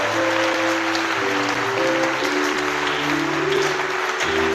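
A church congregation at a Sunday worship service applauds and acclaims the Lord, dense continuous clapping over sustained organ or keyboard chords, loud and steady throughout.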